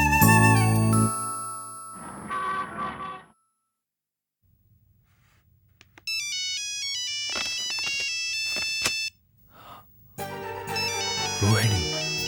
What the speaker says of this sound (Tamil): இந்த நேரத்துல ஏன் ஃபோன் பண்றா?